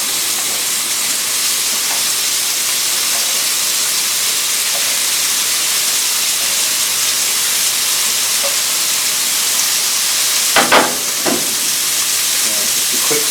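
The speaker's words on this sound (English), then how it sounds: "Going to sear them quickly on each side." Steady loud sizzling of venison steaks searing on a hot grill, a continuous hiss with a few sharper crackles and pops near the end.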